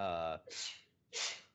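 Two short, sharp sneezes in quick succession, each a breathy burst, closely following a brief spoken word, captured close to the microphone.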